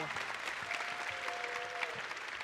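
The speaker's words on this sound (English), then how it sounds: "So I think a round of applause must go to UM6P." Applause from a summit audience at the DeepTech Summit at UM6P, a fairly faint, steady clapping wash across the whole stretch, with a thin tonal whine drifting through the middle.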